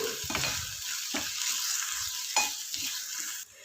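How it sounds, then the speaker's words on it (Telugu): A spoon scrapes and stirs a coconut curry in a hot pan right after turmeric goes in. Repeated strokes swish and scrape over a steady sizzle, close and fairly loud, with no voice. "ఇదిగోండి పసుపు వేసిన తర్వాత ఒకసారి కలిపేసేసి"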